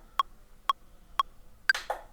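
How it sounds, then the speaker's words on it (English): Ableton's metronome ticks four times at an even pace, sharp dry clicks, the last one accented higher, alone against near silence. "So remember, the metronome sounds like this."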